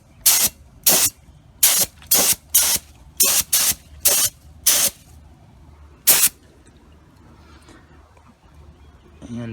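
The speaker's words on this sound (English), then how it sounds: "we'll go ahead and start with a primer" Roughly a dozen short, sharp hissing bursts of spray primer from a can or gun, aimed at a car door finished in white pearl three-stage paint, loud and close with brief pauses between passes, then quieter background.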